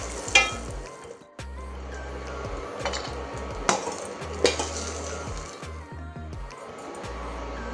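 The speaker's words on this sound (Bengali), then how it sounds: "কিশমিশ কাজু দুটোকে একটু ভেজে নিচ্ছি" Raisins and cashews frying in ghee for carrot halwa, a steady close sizzle broken by sharp clinks and scrapes of a utensil against the pan, with no talking.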